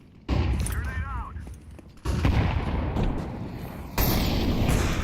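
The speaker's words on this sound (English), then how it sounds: "Grenade out." Explosive blasts in Counter-Strike 2 competitive play: three loud booming bursts roughly two seconds apart, each followed by a sustained rumbling roar, with faint voices underneath.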